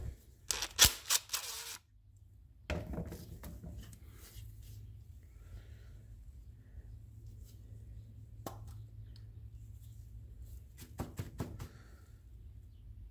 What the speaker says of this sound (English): Then I'm gonna grab my socket and take off the bowl.